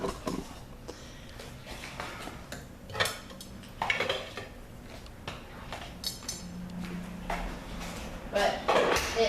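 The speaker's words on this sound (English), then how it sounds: "But when you leave the lids off, you got to stir it all fun." Hot process soap being stirred in an uncovered pot, a utensil scraping and clinking against the metal in repeated strokes, close by, with a person talking over it.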